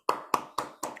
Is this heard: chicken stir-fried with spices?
no